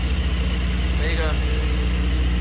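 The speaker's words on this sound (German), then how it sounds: "so einen Motor wirklich so nah wie möglich hören wollen, so klingt der direkt am Krümmer" A Porsche GT4 engine idling, heard right at the exhaust manifold: a close, steady idle with a low, even rumble throughout, plus a brief higher whine midway.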